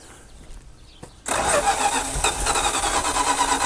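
An old abandoned Dodge Power Wagon service truck engine cranks and catches, loud and close, after a quiet stretch with faint background noise; the engine roars steadily with a rough, uneven running tone.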